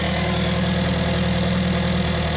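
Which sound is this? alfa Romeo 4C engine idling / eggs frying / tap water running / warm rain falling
alfa Romeo 4C engine idling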